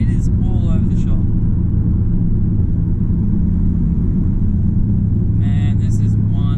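A big-turbo Ford Falcon XR6 accelerates at half throttle in third gear, giving a loud, steady, deep engine drone with brief voices at the start and end.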